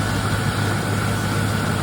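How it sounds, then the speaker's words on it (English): A car engine idles smoothly and steadily, a constant low hum with a faint hiss above it, close by and with no one talking. "engine is running beautifully"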